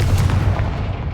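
A Confringo fire spell blast in Hogwarts Legacy, a single loud, close, booming burst with a heavy low thump that decays quickly within about a second.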